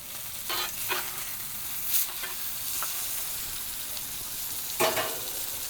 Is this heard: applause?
no